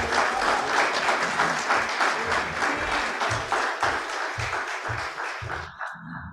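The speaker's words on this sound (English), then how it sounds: "give the praise team a hand clap of praise" A church congregation claps in praise for the praise team, dense sustained applause with a steady rhythmic beat, loud and close, fading out abruptly near the end.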